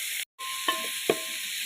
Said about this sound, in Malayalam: അത് വലിയ തക്കാളി നല്ലൊന്ന് വഴറ്റിയെടുക്കാം